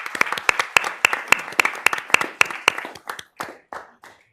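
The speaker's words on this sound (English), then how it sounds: "I think we should give them all another round of applause" A small group at a transit authority board meeting claps, a handful of hands making sharp separate claps for about three seconds before thinning out into a few scattered final claps.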